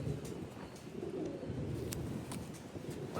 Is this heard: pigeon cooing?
yes